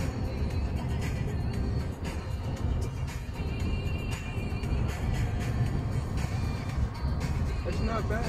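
Interior engine and road drone of a Cadillac CTS 2.0 turbo being driven, a steady low rumble throughout with people talking over it.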